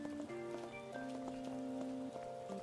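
Gentle rain ambience from the Persona video game, a soft steady patter blended with calm melodic tones and sustained notes, playing on its own at a relaxed, even level with no talking.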